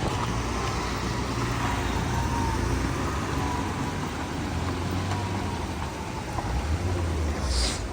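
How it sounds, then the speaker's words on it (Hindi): A vehicle travels a mountain road where rockfall is coming down, its steady engine and road noise holding loud and continuous throughout with no voices. "ये गाड़ी भी गई।"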